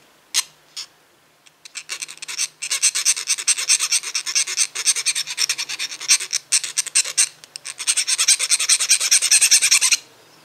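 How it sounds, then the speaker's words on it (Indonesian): A metal hand file rasps back and forth in quick, steady strokes against the steel tip of a fish spear, close and fairly loud, with a few separate taps before the strokes begin. "kalian bisa kikir ya dengan menggunakan kikir ini"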